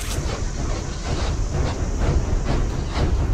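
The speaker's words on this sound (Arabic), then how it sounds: "قطار العاب وش تبغى؟" Toy train from the horror video game Poppy Playtime Chapter 2, rolling along with a steady, dense mechanical rumble and faint rhythmic clatter, loud and continuous without speech.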